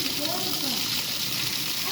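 Water pours and splashes steadily as spinach is washed by hand in a home kitchen, a continuous near rush with a voice faintly present underneath.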